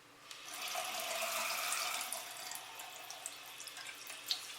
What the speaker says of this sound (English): So let me turn the water on again.